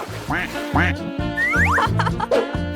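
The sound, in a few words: duck quacking sound for toy ducks in a dollhouse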